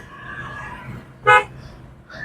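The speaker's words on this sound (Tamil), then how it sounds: "ஹாரன் யூஸ் பண்ணிங்க" A single short car horn toot sounds over low road and engine rumble, fairly close and brief.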